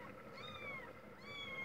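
A mother cat with hungry kittens meows in two drawn-out, rising-and-falling calls, close and clear, over faint background noise in a rural backcountry setting.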